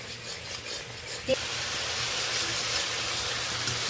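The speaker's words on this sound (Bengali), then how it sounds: "কয়েকবার ভালোভাবে আমি খুন্তির সাহায্যে নেড়ে নিলাম।" Spices being stirred with a spatula and fried in oil in a pan while cooking a Bengali catla fish curry, a steady close sizzling hiss throughout with a brief scrape near the start.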